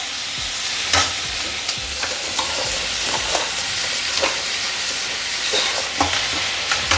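Green chillies sautéing in a pan, with a steady sizzle of frying and intermittent scraping and stirring taps, close and moderately loud, no voices.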